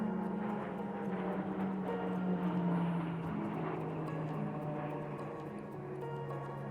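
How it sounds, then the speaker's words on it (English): A propeller airplane drones overhead in a suburban backyard, a steady low engine hum that slowly shifts in pitch as it passes, moderately distant and alone. "And an airplane just flew over."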